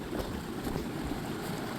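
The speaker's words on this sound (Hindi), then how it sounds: "ये पानी जा रहा है नीचे को, पूरा का पूरा नीचे चले जाएगा" Canal water rushes downstream in a steady, broadband roar, close and constant, with some wind noise buffeting the microphone.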